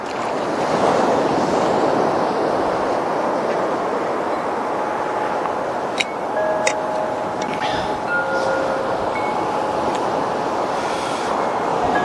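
Ocean waves surge in at close range, a loud, steady wash of surf with wind noise throughout, broken near the middle by a few brief sharp knocks and a faint high tone.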